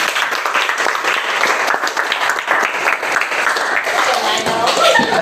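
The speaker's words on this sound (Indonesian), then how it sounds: "Ya, tepuk tangan" A classroom group applauds after a student group's presentation, the clapping steady and fairly loud and close, with voices talking over it.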